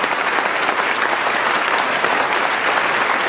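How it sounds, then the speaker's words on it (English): Audience applause at a memorial concert on a rock music cruise, a dense, steady wash of clapping that holds at full loudness throughout with no voices over it. "Give them a round of applause, guys."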